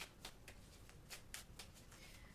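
A deck of cards is shuffled close by, several quick riffling bursts in a row, quiet and alone without speech.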